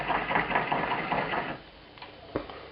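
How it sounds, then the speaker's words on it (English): Ajwain seeds being ground in a mortar make a rough, rhythmic grinding and scraping for about a second and a half, then quieter moments with a couple of sharp knocks, with no talk. "I have some Ajwan, which I'm grinding in a mortar right now"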